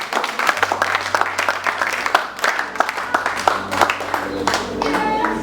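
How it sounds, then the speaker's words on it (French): Guests at a 25th wedding anniversary celebration applaud the couples, a steady patter of many hands clapping at moderate distance, with a low hum and background chatter beneath. "Applaudissez pour les couples."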